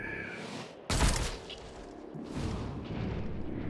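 A single sharp gunshot blast from the XCOM Chimera Squad video game rings out loudly and close, followed by a fading tail and a softer rumbling burst of fire a moment later.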